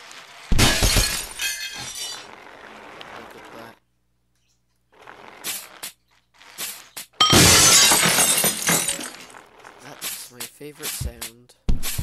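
Repeated glass shattering in the video game Happy Wheels, with loud bursts of breaking glass separated by quiet gaps and lighter clinks, and talking mixed in at points.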